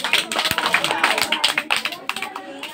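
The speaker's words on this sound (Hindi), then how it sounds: "सही जवाब है। ताली बजाइए।" A classroom group claps together after a correct answer in a religious-studies quiz, giving a quick run of fairly steady, close hand claps for just under three seconds.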